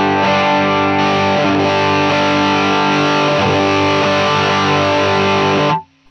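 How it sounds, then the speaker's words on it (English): Distorted electric guitar played through a Line 6 Helix Trainwreck amp model, with a thick, saturated chord ringing loud and sustained for several seconds before cutting off abruptly. "Very nice tone out of this amp."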